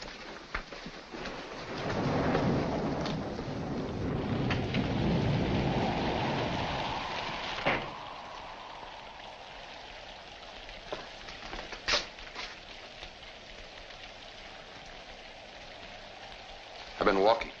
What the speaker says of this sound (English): In this rain? Yes, in this rain.